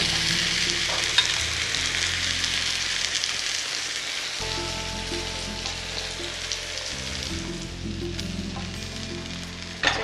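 Rava uttapam frying in oil on a pan gives a steady, close sizzle that runs the full length, with a faint scrape partway through and no talking.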